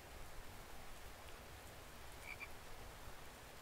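A frog croaks in the video game The Infected, a faint pair of short calls against a steady patter of rain-like ambient noise.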